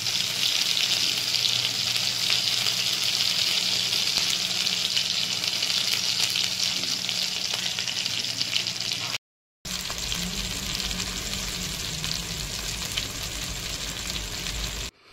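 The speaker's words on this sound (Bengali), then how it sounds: "তো দেখতে থাকো কিভাবে ভাজছি আমি চিকেনগুলো।" Chicken pieces fry in butter and oil in a frying pan for Afghani chicken, a dense, even sizzle that runs steadily, breaks off briefly, then resumes at a similar level.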